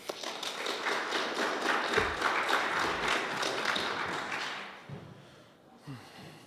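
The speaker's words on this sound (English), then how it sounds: "Give him a round of applause, everybody." A crowd claps steadily for several seconds at a student election speech event, the applause thinning and fading out, followed by a few soft thumps and quiet room noise.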